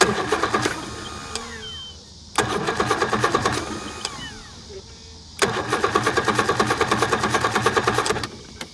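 An old Bass Cat boat's outboard motor cranks in three long bursts, each a rapid rhythmic chugging that fails to catch, with short pauses between attempts.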